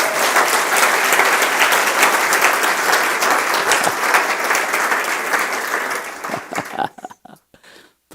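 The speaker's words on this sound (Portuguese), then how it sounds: "dê um aplauso forte para Jesus." A church congregation claps loudly and densely, a sustained roar of applause that cuts off sharply near the end, leaving a few scattered claps.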